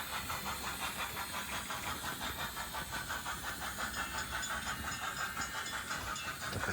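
A Hornby model steam locomotive runs on conventional railway track, playing its onboard sound effects: a steady hissing steam texture with rhythmic chuffing beats, continuous and fairly close, with no talking.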